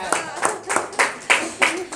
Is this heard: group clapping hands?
yes